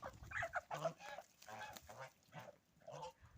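Geese honk repeatedly close by, a series of harsh nasal calls in an irregular rhythm, with no talking.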